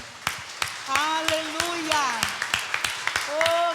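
In a church communion service, scattered congregation claps sound sharply and fairly evenly under a prominent voice speaking in worship, the clapping sparse rather than a full ovation.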